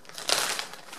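Close, steady rustling and crinkling as crocheted yarn frogs are handled, a soft papery texture peaking briefly near the start and carrying on throughout with no talk.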